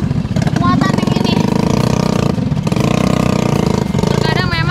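A heavily loaded motorcycle engine labours and revs on a thick, muddy road between regencies in Margasari, Indonesia, loud and close, with a voice talking over the droning engine.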